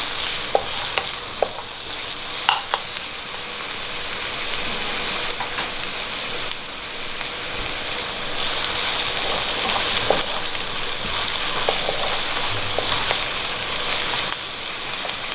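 Garlic sautéing in a pan, a loud continuous hissing sizzle that runs throughout with occasional light utensil taps.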